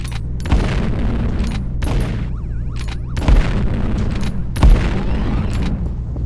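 Gunshots at shooting-range dummy targets in the PlayBack 2 video game: a steady run of loud, punchy game shots with a few sharper booms standing out, over a continuous low game background.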